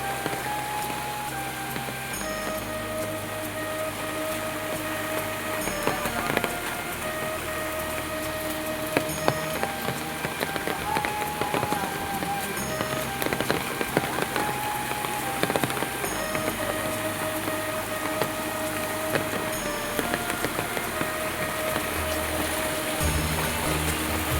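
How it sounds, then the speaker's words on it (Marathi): Heavy monsoon rain in Konkan pours down in a constant dense hiss, with water from a flooded stream splashing and running nearby; steady and loud, with no voices. "रात्रीपासून तीन वाजल्यापासून पाऊस पडतोय"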